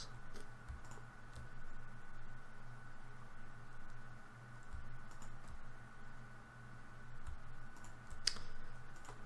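Soft, quiet computer keyboard typing and mouse clicks from selecting connector items in Cadence design software, a steady patter of taps with an occasional sharper click.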